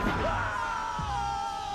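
Cortex, the cartoon villain in the video game Crash Twinsanity, lets out a sustained yelling scream, a steady wavering cry lasting the whole moment over dense game sounds, with a few thuds and bangs underneath and no one talking.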